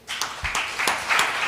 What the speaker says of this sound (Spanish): Terminamos con un fuerte aplauso para Él